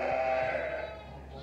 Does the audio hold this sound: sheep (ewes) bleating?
yes